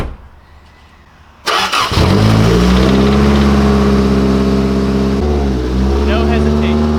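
A Toyota Corolla AE86 engine cranks and catches after a quiet moment, then settles into a loud, close, steady idle with a brief dip and rise in revs.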